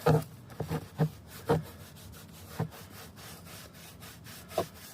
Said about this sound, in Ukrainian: Перевертаємо цей аплікатор і натискаючи на саму баночку, наносимо його на необхідне на місце.